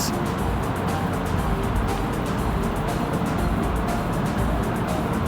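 A sewing machine stitches a cargo pocket onto cargo pants, giving a loud, steady whirring drone with fast, regular ticking running throughout and no pauses.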